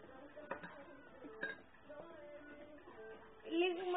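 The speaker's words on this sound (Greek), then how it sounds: "Ανακατεύουμε." Slime mixture is stirred in a bowl, giving soft scraping and occasional light clinks of a utensil against the bowl, close and fairly quiet, alongside faint voices.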